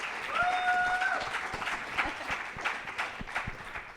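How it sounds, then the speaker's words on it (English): Audience applause for a guest being welcomed at an entertainment industry panel, a steady wash of clapping held for about four seconds with a couple of whistles near the start. "Give her a round of applause"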